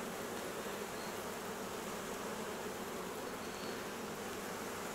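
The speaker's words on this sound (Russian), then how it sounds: "Местные пчелы, условно среднерусской." A swarm of local Central Russian honey bees, newly transferred from a bait trap into a hive, drones in a thick, even hum that stays loud and unbroken throughout, with no talking.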